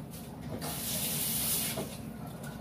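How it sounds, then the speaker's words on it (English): Water running from a tap as fruit is rinsed underneath it, a close, steady hiss and splash that swells in the middle and holds to the end. "Let me wash this off."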